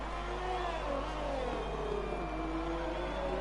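A Formula 1 car in an F1 video game race at Vietnam screams out of the final corner, its high engine note rising and falling through gear changes, loud and continuous.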